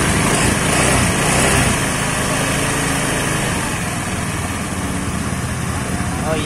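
A carbureted Honda Scoopy scooter engine idles steadily close by, a smooth, even hum with a dense noisy texture and voices faintly in the background.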